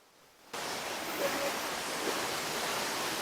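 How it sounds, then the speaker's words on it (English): A forest waterfall roars as a broad, steady rush of falling water that swells in abruptly and holds at an even, fairly close level without talk. "this is the waterfall"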